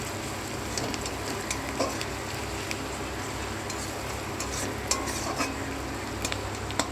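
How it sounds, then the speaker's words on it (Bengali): Finely chopped onion fries in a pan with a constant low sizzle, while a spoon stirs and scrapes against the pan in irregular clicks and taps, fairly quiet and close, with no talking. "তো চলো পেঁয়াজটা ভাজা হতে থাকে।"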